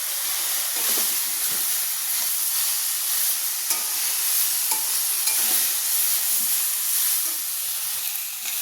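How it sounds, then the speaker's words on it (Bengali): Kul (jujube) frying in a pan for pickle gives a steady, close, bright sizzle that holds level throughout, with a few soft clicks from stirring. "কুলটা আমার ভাজা হয়ে গেছে"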